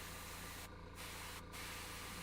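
A steady airbrush or spray can hiss while painting a miniature from the top down, continuous and close, broken by two brief pauses in the spray.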